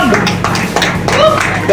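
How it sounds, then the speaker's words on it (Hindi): Short bursts of hand clapping from an audience at an influencer award competition, loud and close, with voices talking over the claps. "जोरदार तालियां एक बार इनके लिए"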